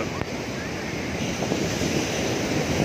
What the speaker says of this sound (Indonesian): Ombaknya pun besar.